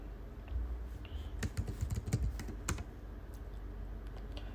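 Fingers tap out a CLI username and password on a computer keyboard, a quiet, close run of irregular key clicks over a steady background hum.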